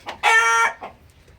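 A Brahma rooster's loud, harmonic call rings out for about half a second, framed by a few shorter clucks and squawks from Brahma hens nearby.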